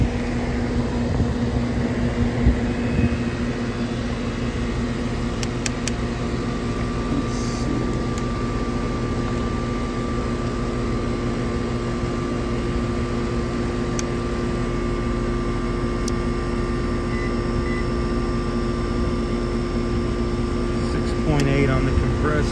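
A Goodman air conditioner that has not been cooling hums steadily nearby, a constant droning run with a faint mechanical whine throughout and brief clicks near the end.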